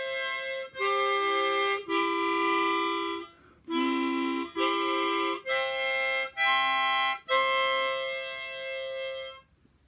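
A beginner blows a first few uneven notes on a chromatic harmonica, a series of about seven reedy, buzzy tones of varying pitch, close and fairly loud, separated by short breaths.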